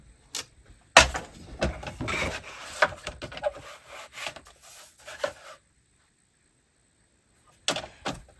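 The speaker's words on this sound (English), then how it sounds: "Let me get my trimmer." Rotary paper trimmer slicing through cardstock in short scraping and rubbing strokes with a few sharp clacks, close by, then a pause before a final quick cut.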